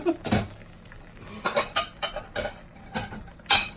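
Dishes and cutlery clattering in a kitchen drain board, a series of sharp clinks and knocks spaced irregularly over a few seconds, close and moderately loud, with no talking.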